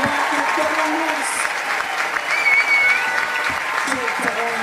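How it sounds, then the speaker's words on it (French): An audience applauds steadily while a commentator speaks over the clapping at a women's doubles beach tennis final. "on peut l'applaudir, la jeune espagnole, bien sûr."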